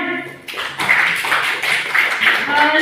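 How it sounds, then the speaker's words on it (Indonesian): Clapping for a teacher breaks out after a brief lull, a burst of many hands patting in a room, moderately loud and sustained, with faint voices beneath. "Tepuk tangan sekali lagi buat Bu Kade ya"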